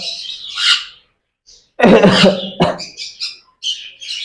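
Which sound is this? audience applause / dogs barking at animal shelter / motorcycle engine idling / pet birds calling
pet birds calling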